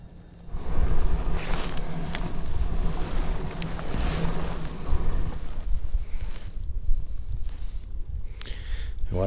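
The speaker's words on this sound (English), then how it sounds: "Watch out, the wind's blowing me into the rocks." Strong wind buffeting the microphone while kayak bass fishing on Pine Flat Lake in winter, a loud, continuous rumbling roar with gusty surges and faint water sounds.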